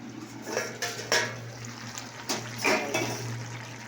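Lid set onto a cooking pot of potatoes and long beans in water: a few separate metallic clanks and rattles of a pot and lid, close and moderately loud over a low steady hum, with no talk.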